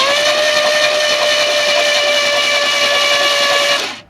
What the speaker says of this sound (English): we're going to crank the engine